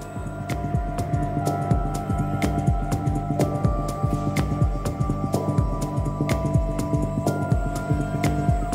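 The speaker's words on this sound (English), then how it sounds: "The welding tower robot moves into position for the next tack" An automated welding tower robot moves into position in a steel beam assembly factory, giving a steady mechanical hum with rapid, regular throbbing pulses and sharp clicks throughout, loud and continuous with no voices.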